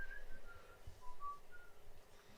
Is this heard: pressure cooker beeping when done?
no